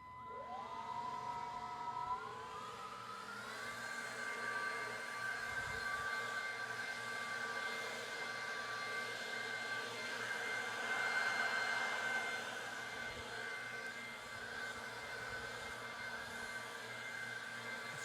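A battery-powered fan-driven dust-sucking machine whines steadily, its pitch rising as it spins up, then holding a continuous high drone with faint rustling underneath.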